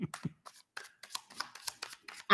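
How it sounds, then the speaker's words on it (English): Tarot cards are shuffled by hand in quick, crisp riffles and slaps, close and fairly quiet, with a louder rustle at the end. "it's all I hear in the background. What you doing? Shuffling cards."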